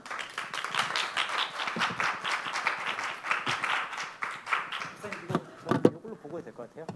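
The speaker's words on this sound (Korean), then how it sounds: "우리 박연 목사님 나오실 때 우리 박수로 환영하겠습니다" A church congregation claps to welcome a pastor at a youth worship gathering, dense steady applause for about five seconds before thinning into a few scattered claps.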